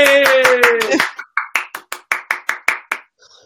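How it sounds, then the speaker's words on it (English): A voice speaks briefly, then a small audience gives a short round of applause: about a dozen evenly spaced, crisp handclaps, close and sparse rather than a full ovation. "please, can you give a massive, massive standing ovation, round of applause to Dezzie Willoughby!"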